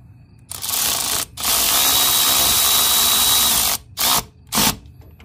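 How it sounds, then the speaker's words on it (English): Power tool running bolts back in after a PRL titanium intake install on a Honda FL5 Civic Type R, one long loud whirring burst followed by two short bursts, close and alone. "now we can put these bolts back on."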